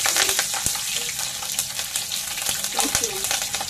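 Green chillies hit hot oil in a home kitchen pan while a Telugu sour stew of taro root and brinjal is being made, giving a loud, steady crackling sizzle with a few sharp pops and spatters.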